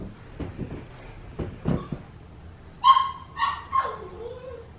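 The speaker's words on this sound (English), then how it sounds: "That's the first time I've heard it bark." A few short, high yips from a 9-week-old Labradoodle puppy near the end, following faint soft sounds and low background noise; the barks are brief and close.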